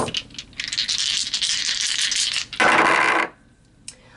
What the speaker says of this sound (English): So let's pull some more dice.